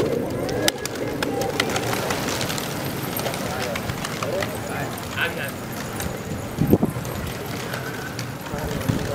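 Pigeons coo and flutter amid busy outdoor noise at a pigeon-flying competition in Pakistan, with people talking nearby and a brief burst of wings as the birds take off.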